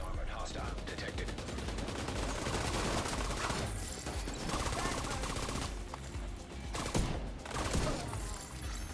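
Sustained gunfire in The Division 2, a dense, continuous run of shots and bursts over game music and effects, with brief breaks and louder volleys near the end, while a voice talks intermittently underneath.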